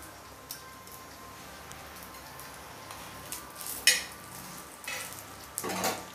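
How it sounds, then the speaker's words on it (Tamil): Rava batter frying on a dosa tava over a medium flame, a soft, steady sizzle with a few sharp clicks and scrapes near the end, fairly quiet and without talk. "மீடியம் ஃப்ளேமில் வச்சு பொரிச்சு எடுத்துடலாங்க"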